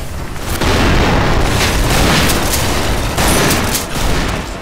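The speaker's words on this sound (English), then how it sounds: "Shit grenade!" A grenade explodes in a video game: a loud, sustained booming blast with dense crackling rumble that fills the whole stretch, briefly dipping before surging again.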